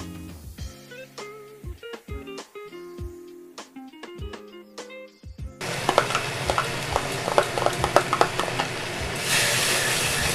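Masala frying in a pan for an egg korma as green chillies and sour yogurt go in: light stirring taps at first, then a loud, steady sizzle and hiss with scraping stirs once the ingredients hit the hot oil.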